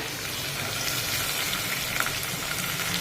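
Steady, dense sizzling of vegetables sautéing in a pan for vegetable semiya kichidi, a soft continuous crackle with no talking.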